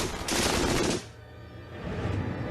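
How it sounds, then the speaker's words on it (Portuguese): A burst of extremely rapid MG-42 machine gun fire, so fast it sounds like a tearing roar, then it stops and a lower rumble follows. "A MG-42 é tão rápida que não se pode ouvir seus tiros individuais."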